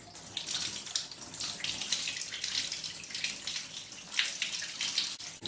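Olive soaking water poured out into a bathtub, a splashing, gurgling stream with uneven surges and bursts, close by and moderately loud, with no voices.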